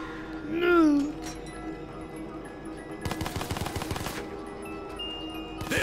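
Rapid gunfire from a new gun in a zombie video game, a dense burst of shots lasting about a second mid-clip, preceded by a rising game tone and set against steady background game audio.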